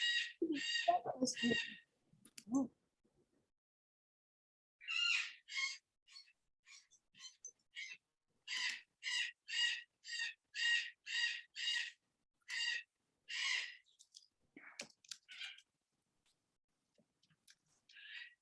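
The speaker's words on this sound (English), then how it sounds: "I forgot about your menagerie, your birds." Pet birds in a home make repeated harsh, cawing calls in short bursts, fairly loud and close, with a voice speaking briefly at the start.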